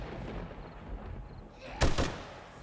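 Gunfire in the game 7 Days to Die during a horde night: a low rumbling backdrop, then one loud sharp shot with a quick second crack about two seconds in, fading into a rumbling tail.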